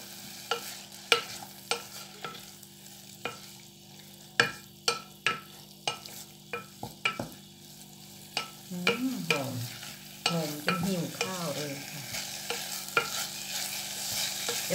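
Pork is stir-fried in a small pot with a little added water for a Thai kaeng khae curry. A spatula scrapes and knocks against the pot in a regular rhythm over a faint, low sizzle, close by and with no talking.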